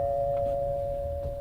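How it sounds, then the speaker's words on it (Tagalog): A single steady electronic hotel doorbell tone rings out, fairly faint, holding on one pitch with a low hum underneath. "Doorbell."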